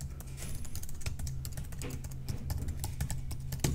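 Computer keyboard keys tapped in a quick, uneven run while an email address is entered, close and fairly loud, with a steady low hum behind the clicks and no talk.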